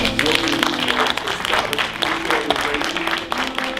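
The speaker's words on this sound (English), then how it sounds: "We can give them a big round of applause" An audience claps for the founders of a Black repertory folklore group at a family and Black history program, loud continuous clapping with a low hum or music bed and faint crowd murmur underneath.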